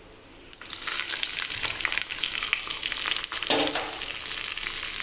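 Hot tempering poured into coconut curd chutney, bursting into a loud, bright sizzle that starts suddenly and keeps crackling steadily, with a brief stirring or pouring shift partway through and no talking.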